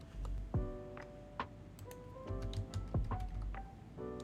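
Computer keyboard typing comes through as faint, scattered clicks beneath steady Animal Crossing game music, with no talking.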